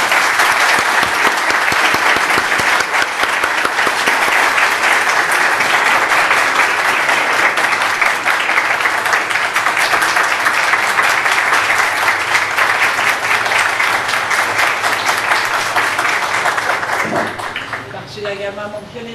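A large audience claps steadily and loudly at a ceremony in Torshiz Garden, Kashmar, a dense roar of applause lasting over fifteen seconds before thinning out as a voice begins to speak.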